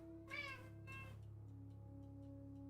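A cat gives two short meows close by, the first higher and clearer, then a low steady hum continues beneath.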